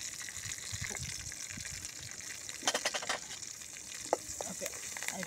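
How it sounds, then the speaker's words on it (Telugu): Tempering spices and a pinch of asafoetida sizzle in hot oil for a gongura chutney, a steady crackling fry close by with bursts of spattering and stirring through the middle, and no voices. "ఇగో పోపు దినుసులు వేసుకుందాం."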